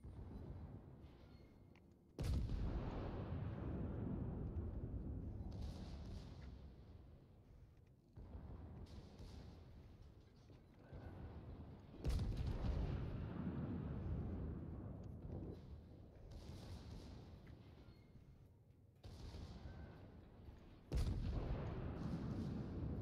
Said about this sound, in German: Sekundäre geht los auf ihn.